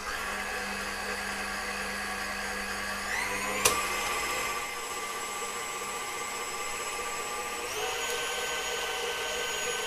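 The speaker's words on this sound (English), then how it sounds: "So eggs go in with the sugar and then into the machine. So start off on a slow speed." An electric stand mixer whisks eggs with sugar at slow speed for a gluten-free cake, its motor a steady whirring hum throughout that shifts pitch briefly near the middle and again near the end.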